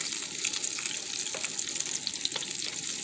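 Risotto rice stirred in a hot pan: a continuous bright sizzle with scraping, rubbing grain noise and small irregular ticks, steady and close throughout.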